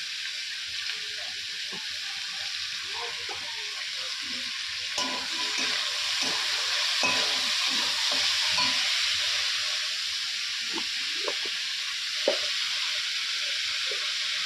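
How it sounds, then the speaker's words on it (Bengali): Steady bright sizzle of potatoes frying in hot oil in a wok, with scattered clicks and scrapes of a utensil stirring. No voices. "এখন কড়াইয়ের মধ্যে তেল দিয়ে দিয়েছি যে আলু ভাজাটা বসাবো"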